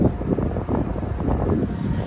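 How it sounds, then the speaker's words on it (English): Strong wind buffets the microphone in loud, rumbling gusts that roar continuously throughout. "Jesus, this wind is crazy."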